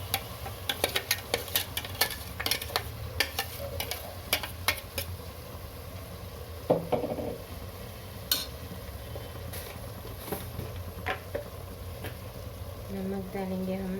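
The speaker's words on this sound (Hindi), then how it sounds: "अब हम इसमें इस ग्रेवी को ऐड करेंगे।" Chicken cooking with balar (hyacinth beans) gravy in a pan, a soft continuous sizzle with intermittent spoon scrapes and clinks against the pot, close and moderately quiet.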